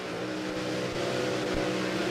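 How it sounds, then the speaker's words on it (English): Drag race cars, including a Ford Probe with a 347 cubic inch engine, do burnouts, giving a continuous loud, droning engine roar with rough, gritty texture throughout. "Some tough little burnouts here."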